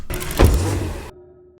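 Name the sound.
car door closing sound effect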